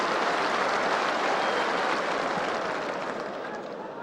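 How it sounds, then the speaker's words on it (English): Stadium crowd applauds warmly at White Hart Lane during a 1993/94 Premier League match between Tottenham Hotspur and Oldham Athletic, a dense, steady wash of clapping from the stands that slowly fades. "to warm applause."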